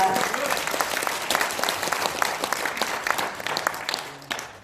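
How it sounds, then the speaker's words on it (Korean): Applause at an association's general meeting welcoming a political party leader as guest speaker, with crisp individual claps from a nearby crowd forming a lively, uneven patter that carries on throughout. "큰 박수 부탁드립니다."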